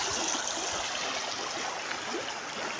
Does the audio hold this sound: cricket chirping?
no